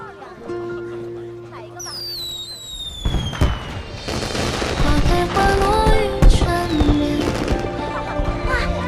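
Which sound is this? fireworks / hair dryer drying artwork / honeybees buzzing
fireworks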